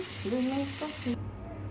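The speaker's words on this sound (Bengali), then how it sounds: "মাছ ভাজা হয়ে গেছে, একটু পরে নামিয়ে নেব।" Pangas fish frying in hot oil gives a steady close sizzling hiss under a few faint tonal sounds, and the hiss cuts off abruptly partway through.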